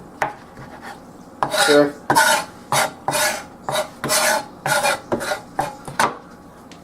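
A knife chops food roughly on a cutting board in a steady series of about a dozen close, rasping strokes, evenly spaced. One short spoken word is heard early on.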